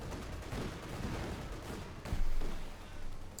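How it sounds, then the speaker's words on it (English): Autocannon fire in the real-time strategy video game Company of Heroes 2, a dense rattling wash of rapid shots with a heavier thump near the end, loud and continuous throughout. "Auto cannon fire turning into them"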